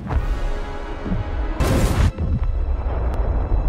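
A bomb blast at the Starbridge from the Foundation series: a sudden loud burst of roaring noise midway, set over a low rumbling soundtrack, with no voices.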